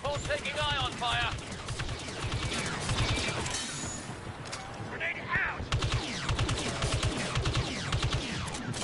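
Ion cannon fire striking a multi-troop transport in Star Wars Battlefront 2, with dense, rapid bursts of blasts and impacts running continuously through a busy battle mix.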